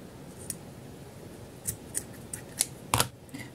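Scissors snip leftover yarn after a knot is tied in a Christmas craft, giving several sharp, quiet clicks spread over a few seconds, the last one louder, with no voices.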